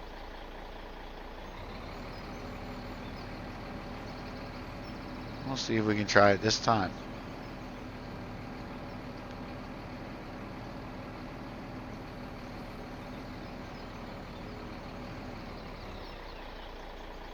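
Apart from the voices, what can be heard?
road traffic, trucks driving, from the video game Mountain Valley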